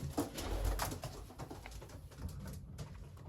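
Racing pigeons coo softly inside their loft, a low, quiet murmur of repeated throaty calls close by, with no talking.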